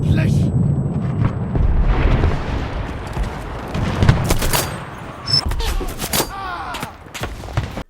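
Submachine gun fire in the World War II shooter Enlisted, set in Normandy, crackles in dense bursts amid distant battlefield explosions, loud and continuous, with someone talking over parts of it.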